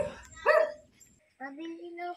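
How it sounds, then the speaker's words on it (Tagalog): A dog barks a couple of quick yips close by in a village street, followed by a person speaking briefly. "May aso, may aso."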